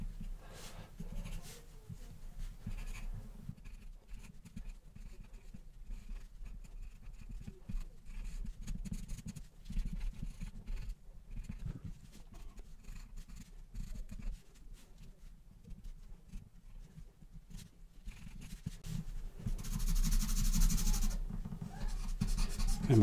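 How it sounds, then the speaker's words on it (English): Graphite pencil shading across paper while darkening areas of a tortoise drawing, a steady soft scratchy scraping that runs continuously and close up, with no talking. "so literally just taking the pencil through that shape just to darken it"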